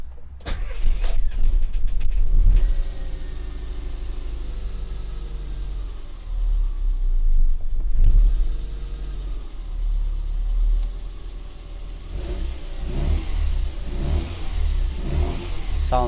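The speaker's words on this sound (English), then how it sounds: "I'll give it a start now and you can have a listen with the slightly thicker oil in" An Austin Metro engine with slightly thicker oil cranks, starts and runs, revving up and settling into a loud, close, steady idle with several rises in pitch.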